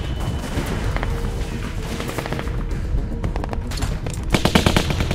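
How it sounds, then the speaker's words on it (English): Heavy gunfire from The Walking Dead video game, dense, continuous automatic bursts with loud sharp cracks growing sharper toward the end, no talk. "Only Carver would have such heavy artillery, surely."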